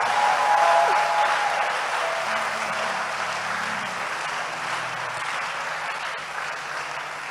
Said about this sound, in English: God bless those who are clapping.